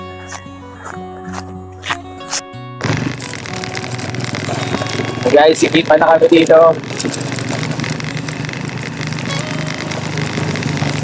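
After a few seconds of tonal sound, a motorcycle engine rumbles close by, running loudly and steadily with a rough, chattering texture, while people talk over it.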